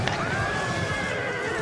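Horse neighing amid cavalry in the battle game Total War: Rome II, a single drawn-out whinny over faint hoof clatter and battle noise, close and clear.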